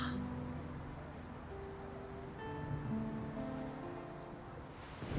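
Rain falls steadily at night in Love & Deepspace, a soft constant patter beneath gentle sustained musical tones.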